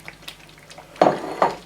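Capsicum and green chillies are tossed into a pan of frying malai chicken: two sharp clattering hits with a burst of sizzle, following quieter scattered clinks of utensils.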